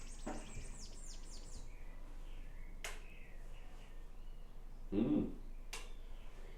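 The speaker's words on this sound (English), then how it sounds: "The birds are whistling" Birds chirping and whistling in the dark before dawn outdoors: a few faint, scattered chirps and short calls at a distance, over a quiet background with occasional sharp clicks and a brief low thump.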